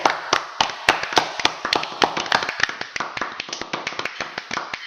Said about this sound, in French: Gérard Mentor, sous vos applaudissements